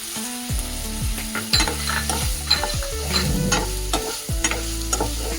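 Onions fry in oil already seasoned with mustard seeds, cumin, asafoetida and turmeric, a loud close sizzle with scraping spatula strokes and low rumbling pan bumps, with no talk.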